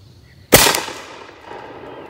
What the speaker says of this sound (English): I ain't shot this old rifle in forever.